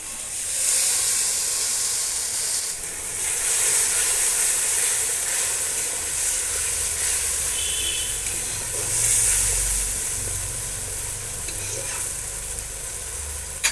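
Crab curry masala sizzles and hisses in a pan after water is added, with green chilli and chilli paste in the mix; steady frying crackle with stirring scrapes runs close and continuous throughout, without speech.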